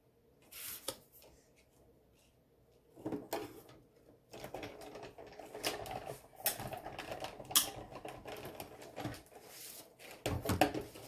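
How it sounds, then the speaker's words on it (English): A die cutting machine cuts out a window flap card, making irregular mechanical clunks and rattles that come close and fairly loud, with quieter stretches between them. "run this through my machine to die cut this out"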